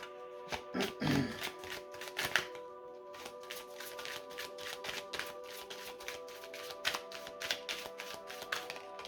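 Tarot cards handled, shuffled and drawn on a table: soft rapid riffling and flicking, light taps and card slaps, fairly close and quiet, with faint background voice.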